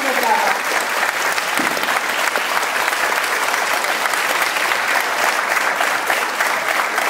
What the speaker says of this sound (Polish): duże brawa dla nas.